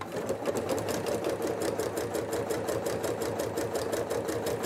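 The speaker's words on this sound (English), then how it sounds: "I'm just sewing a 1/4 inch seam right down the end" A sewing machine stitches a quarter-inch seam, running steadily with a fast, even mechanical stitching rhythm, close and continuous, with no talking.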